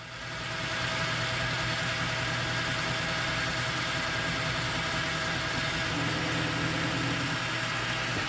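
Machine tool cutting a chamfer on the outside radius of a metal micrometer stand part, giving a steady, even motor hum and faint cutting noise that runs unchanged throughout with no talking.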